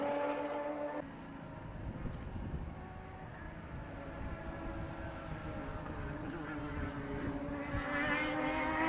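Race car engine at Sydney Motorsport Park as the driver feeds in throttle through a corner, a distant droning engine note that rises gradually in pitch and loudness, with no speech.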